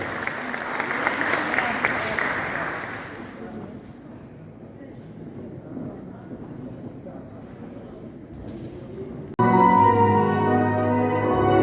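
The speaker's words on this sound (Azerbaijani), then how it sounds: "Alqışlar" Audience at a charity evening concert applauds after a vocal performance, a dense burst of clapping that fades into murmur, before music suddenly starts up at the end.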